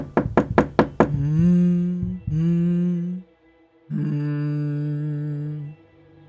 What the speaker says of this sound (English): You knock on it erratically with all your strength to no avail.